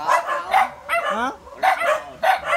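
Several dogs bark and yip in short bursts at close range, some sharp and high, with a whimpering tone between barks.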